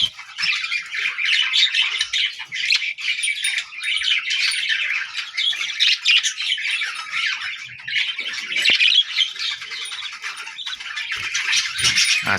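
Pet budgerigars on a balcony squawk and chirp as a mother bird feeds her chicks, a constant busy chatter of shrill, overlapping calls close up that goes on without a break.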